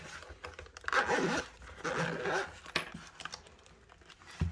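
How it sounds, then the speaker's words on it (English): A zipper is drawn open on a gun cleaning kit case, with two or three close, scratchy pulls of the slider, some handling rustle and a brief click, and no talk. "Okay, so we'll unzip it."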